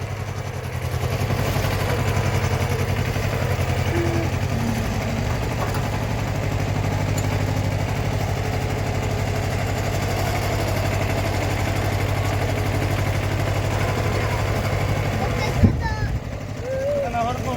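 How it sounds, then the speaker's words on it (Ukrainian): A Kubota tractor engine idles steadily throughout, a low continuous rumble close by, with a brief knock near the end. "Бач трактор."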